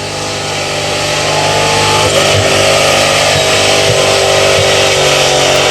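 A VN Commodore's engine roars at high revs during a burnout at Southcoast Raceway, loud and sustained, rising slightly then holding a strained, steady howl with no talk.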